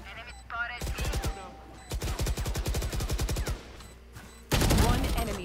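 Valorant gunfire in several rapid automatic bursts, a short volley, then a longer sustained string, then a final dense burst, all loud and close in the game.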